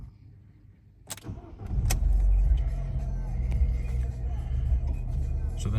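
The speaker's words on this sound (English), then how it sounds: "Let's just start her up so you can see there's no warnings." A 2010 Alfa Romeo Giulietta Veloce 1.4 TB MultiAir starts after a couple of clicks, cranks briefly and catches into a steady, close idle rumble that holds to the end.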